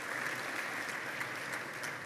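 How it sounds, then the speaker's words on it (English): Audience applause welcoming a speaker onto the stage at a leadership panel event on AI, a dense, even wash of clapping heard from a distance, steady and fairly quiet. "Let's give her a warm round of applause."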